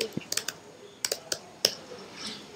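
Keys tapped on a computer keyboard while entering a server password, a few sharp, irregular clicks spaced apart, close and fairly clear over a quiet background.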